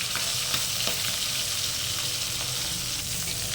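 Hilsa fish heads fry in hot oil with a dense, loud, unbroken sizzle and faint crackles throughout, close by.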